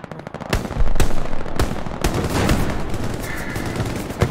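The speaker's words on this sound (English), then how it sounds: "that's where he's shooting people from." Gunfire in the World War II shooter game Hell Let Loose: several sharp, loud rifle shots spaced about half a second apart, then a denser stretch of rattling fire and battle noise, with no talking.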